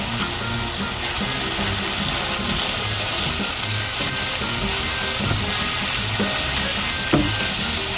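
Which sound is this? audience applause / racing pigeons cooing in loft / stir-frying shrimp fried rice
stir-frying shrimp fried rice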